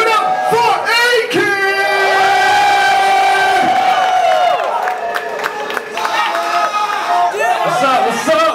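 A dense crowd at a live music event in KL cheers and roars for a performer, loud and continuous. Shouts and voices rise through the noise, with a few high, sustained yelling tones.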